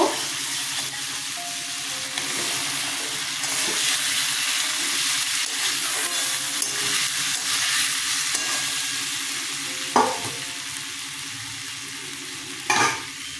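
Vegetarian jackfruit curry with potatoes and mango fries in a pan as turmeric and dried chili powder go in, a loud steady sizzle with stirring scrapes and a couple of sharp clatters.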